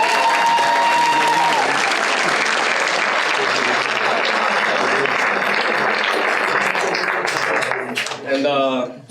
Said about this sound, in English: And a round of applause for stage crew